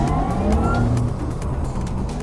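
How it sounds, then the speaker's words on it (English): A Porsche Taycan Turbo S electric super car with 761 horsepower accelerates, giving a smooth rising electric whine over road and tyre rumble, loud and close, with no talking. "This is what 761 horsepower sound like in the Porsche of the future."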